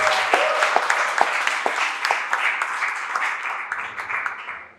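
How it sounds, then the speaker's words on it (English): A crowd applauds, dense clapping that holds steady and then tapers off at the end, with faint voices underneath. "Let's give her a big round of applause."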